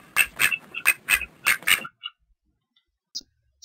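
A duck quacking as a sound effect, a rapid run of about seven loud, nasal quacks followed by a couple of faint isolated squawks after a pause.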